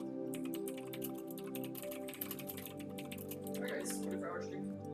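Rapid computer-keyboard typing clicks in a steady patter under continuous mellow lo-fi music, with a voice talking over them throughout.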